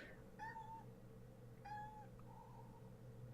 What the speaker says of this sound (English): I also have a cat familiar, and it keeps meowing in the background